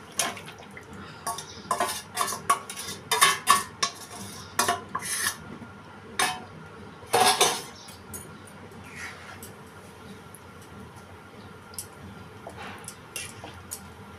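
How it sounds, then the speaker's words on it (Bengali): Pieces of chicken are dropped and pushed into a pot of browned masala for biryani, giving sharp clinks of utensil on metal, soft squishes and bursts of scraping that fade to quieter stirring. "এবারে আমি চিকেনটা দিয়ে দেবো আস্তে আস্তে"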